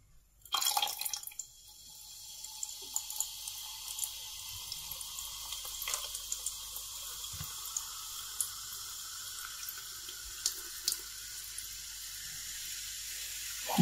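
Fanta poured into a Passion Red cocktail gives a thin, steady liquid trickle with faint fizzing, following a brief louder splash at the start; no one speaks.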